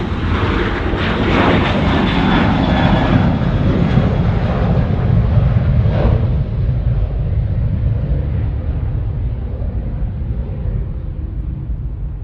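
A Cathay Pacific Airbus A350-900 takes off at Sydney Airport with a loud, close, sustained jet roar that holds steady, then slowly thins as the aircraft climbs away.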